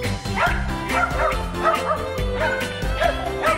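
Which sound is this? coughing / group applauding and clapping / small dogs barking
small dogs barking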